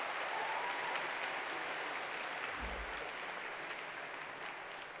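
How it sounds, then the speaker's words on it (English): Steady applause from an audience at an Armed Forces Day military band music evening, continuous and fairly distant, with a brief low thump partway through. "Let's give a round of applause again."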